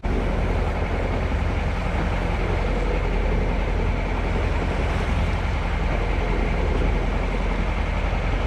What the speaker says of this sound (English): Engine seems to be running okay.